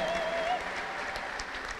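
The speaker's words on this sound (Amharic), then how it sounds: "ይሄ ጭብጨባ ይሄ እልልታ ይጨመር" A church congregation claps steadily and broadly, with a brief high, wavering ululation trilling over the applause at the start before the clapping carries on alone.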